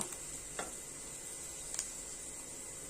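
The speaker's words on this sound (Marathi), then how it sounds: "आणि छान परतवून घेऊया गुलाबी रंगावर ह्याच्यात थोडं हिंग घालून घेतलंय मिक्स करून घेऊया" Onion with a pinch of asafoetida sautéing in oil, a steady close sizzle with a couple of faint spoon scrapes as it is stirred.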